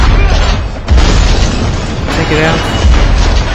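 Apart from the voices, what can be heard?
shotgun blasts in video game SpyHunter Nowhere To Run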